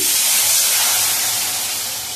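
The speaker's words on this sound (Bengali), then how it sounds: "এবার আমি জল দিয়ে দিচ্ছি" Water hits sautéed vegetables for Bengali shukto in a hot pan, letting out a loud, close burst of steamy hiss that slowly fades.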